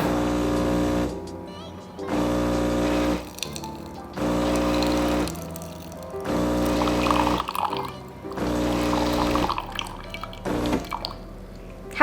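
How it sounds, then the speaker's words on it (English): A DeLonghi Eletta Explore coffee machine runs its milk spout clean cycle, giving a loud humming, hissing pump sound in repeated bursts of about a second with short pauses between them, ending with a click. "The machine will prompt you to do a really quick latte crema milk clean."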